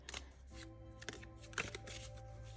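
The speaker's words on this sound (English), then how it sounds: "I'm just shuffling it overhand like that." Oracle cards riffle and slap softly in short bursts as a deck is shuffled overhand by hand, close and quiet, with a faint steady hum underneath.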